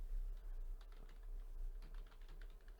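The word Bangladesh is typed on a computer keyboard, a short run of close, rapid key clicks over a steady low hum.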